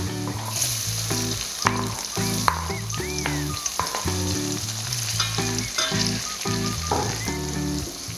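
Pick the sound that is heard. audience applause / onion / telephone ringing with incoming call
onion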